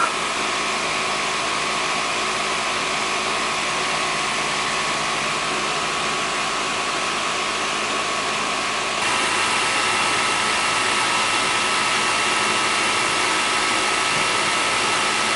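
A vacuum pump evacuating an air conditioning system gives a steady, droning mechanical whir that runs without a break, loud and constant throughout, with a slight shift in tone partway through.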